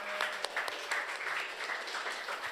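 Audience applause for a student news crew's first live show, a short burst of mixed clapping at moderate level with no talking over it.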